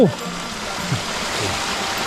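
A waterfall in rural Khammouane, Laos, sends up a steady broadband rush of falling water, constant throughout, with a brief voice at the start.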